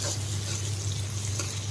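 Carrot fry being stirred in a pan, sizzling steadily with a continuous crackle and soft scraping, close and moderately loud, no voices.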